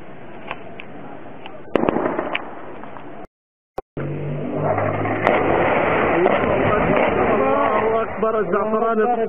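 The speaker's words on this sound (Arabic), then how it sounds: "قصف على بلدة الزعفرانة، على البيوت الآمنة." Artillery shelling on the town of Zafarana near Homs, heard as loud, harsh broadband crashes and rumble running nearly throughout, with one sharp blast partway through, a brief dropout, and a voice shouting over it.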